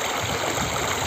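The Dhansiri river flowing near the Assam–Nagaland border, a steady broadband rush of water with no breaks.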